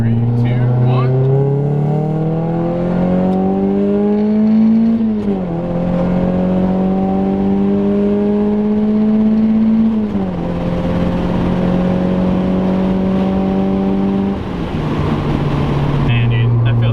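Mazda Miata NB with BF Goodrich Rivals tires under a hard full-throttle pull, engine note rising steadily through gears with brief drops at each shift, loud and close from inside the car, no talk.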